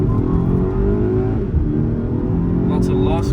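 A 2013 Volkswagen GTI launches hard from a standstill with lost traction, its engine droning steadily and loudly throughout, with a little wheel or tire noise near the end.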